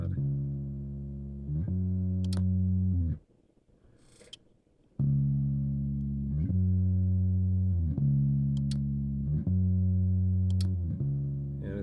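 A repeating drum pattern plays through an Empirical Labs Pump 500 Series compressor with a gritty, heavily squashed and distorted tone, briefly dropping out midway before resuming.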